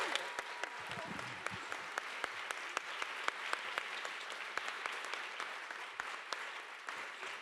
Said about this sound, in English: A huge round of applause here